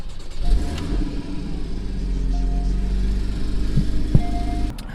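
A 2013 Porsche Boxster engine idles close by with a steady, low, even rumble that holds for the full few seconds, with only a slight swell partway through.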